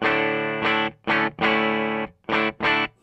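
Electric guitar played through a Two-Rock Classic amp set clean with the Speaker Cranker overdrive pedal bypassed, sounding as several loud separate strummed chords with short gaps between them and no voice.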